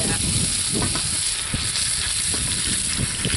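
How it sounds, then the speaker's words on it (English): Steak sears in oil in a Dutch oven over a campfire, giving a close, constant sizzle and crackle of frying that holds steady throughout. "Getting a nice sear on it."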